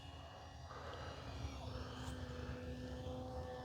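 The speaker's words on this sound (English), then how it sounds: "we'll just go ahead and do a good old scale World War I takeoff" An E-flite SE5a 900mm RC model of a World War I biplane takes off from grass, its electric motor and propeller giving a steady, fairly loud whine that holds level throughout, with no talking.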